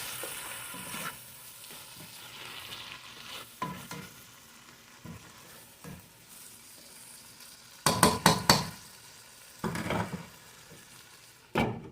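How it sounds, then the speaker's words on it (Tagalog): Milkfish and chorizo de Bilbao fry and get stirred in a pan, with steady sizzling broken by scraping strokes and a cluster of loud utensil clanks near the end. "Stir until it will mix together."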